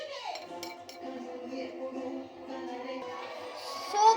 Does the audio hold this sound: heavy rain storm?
no